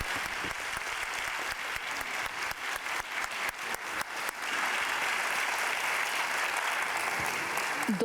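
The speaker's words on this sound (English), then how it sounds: "I kindly ask you a round of applause for the 4 of them." Audience at an academic event on errors in judicial decisions gives a round of applause for four panelists, starting with distinct claps that swell into a sustained, even roar of clapping.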